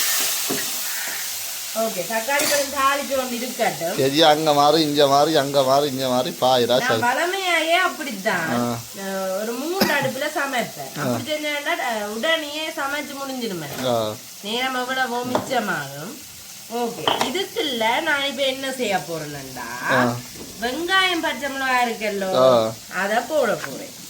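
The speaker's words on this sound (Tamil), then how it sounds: "இதோட நான் இப்ப தக்காளி பழம் வட்டி வச்சுக்கிறேன் சின்ன சின்னதுண்டா சரியா தக்காளி பழத்தை சேர்த்து வடிவா தாளிப்போம்" Chopped tomatoes frying and being tempered in a hot pan, a continuous loud sizzle with stirring scrapes beneath someone talking over most of it.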